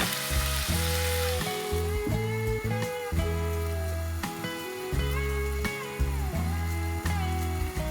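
Potatoes frying in a pan with a mustard oil tempering, a steady crackling sizzle heard close up, with louder tonal clanks and scrapes of stirring recurring every second or so.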